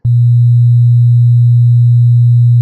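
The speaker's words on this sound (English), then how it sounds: "Let's say I increase to 120 for sine wave" A pure 120 Hz sine wave tone sounds loud and steady with an abrupt start, a constant low hum that holds unchanged throughout.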